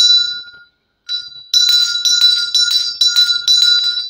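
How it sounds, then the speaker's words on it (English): A small hand bell rings clear and close: a single ring fades out, there is a short gap, a brief ring follows, then a rapid run of repeated shaken strikes. "Where is my bell?"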